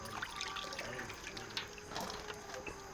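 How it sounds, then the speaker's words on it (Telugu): A steady trickle of water runs and splashes softly and continuously into turmeric paste, close by and fairly quiet, with no talking. "ఆ పసుపులో కొంచెం వాటర్ పోయింది చిక్కగా"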